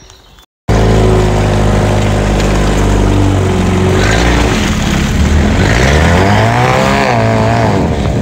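A small motorized vehicle fitted with big knobby tires starts up and drives along forest trails, its engine loud and close, holding a steady drone that rises and falls in pitch as it revs and accelerates.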